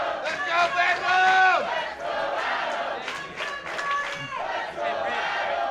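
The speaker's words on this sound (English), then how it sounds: "You hear the crowd silently behind Prince Adam." A wrestling crowd cheers and roars throughout in a dense, sustained wash of many voices. Individual shouts and whoops rise above the noise, and the din swells and dips without ever dropping away.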